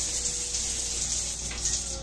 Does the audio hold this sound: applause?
no